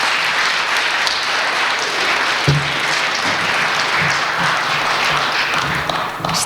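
Sustained applause from an audience at an evening talk event, dense and steady clapping that fills the space for several seconds.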